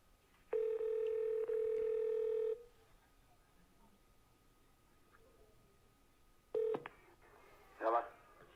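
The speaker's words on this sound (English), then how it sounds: "the follow-up call that happened about 5 minutes later to the same exact individual, Donnie" Telephone dialing tones for a follow-up sales call: a long steady tone lasting about two seconds, then a short tone burst several seconds later, with faint background noise.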